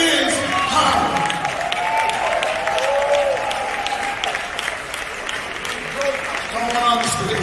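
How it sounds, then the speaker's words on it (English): Audience applause on a stage as leaders come up to sign a hip hop alliance agreement, sustained clapping with cheers from a crowd while a voice speaks over it near the mic. "Let's give them all a round of applause because this is power."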